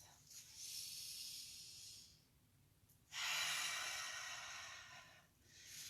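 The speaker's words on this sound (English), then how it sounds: "Making sure to try to breathe in through the nose, Exhale through the mouth." Congested breathing during a stretching routine, drawn in through the nose and pushed out through the mouth, two long airy breaths with a pause between, close and fairly soft.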